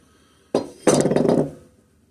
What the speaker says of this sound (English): this timing gear will pull right off the cam